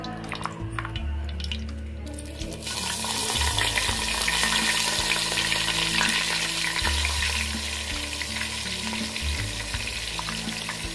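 Onion paste frying in a pan for Andhra-style fish curry, a steady loud sizzle that swells after a quieter opening couple of seconds, with scraping stirs and low clatter throughout and no talking.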